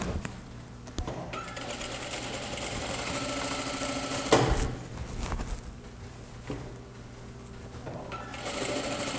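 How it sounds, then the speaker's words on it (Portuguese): A sewing machine stitches the seams of a pair of women's trousers, running steadily and close at hand for the whole stretch with a brief louder burst midway and no voices over it. "Daí agora a gente vai costurar."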